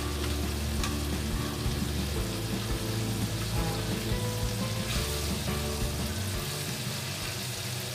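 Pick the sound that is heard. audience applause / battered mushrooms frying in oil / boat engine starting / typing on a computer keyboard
battered mushrooms frying in oil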